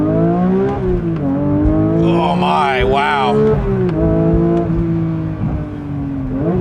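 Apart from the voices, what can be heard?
Porsche 992 GT3 engine at full throttle in first gear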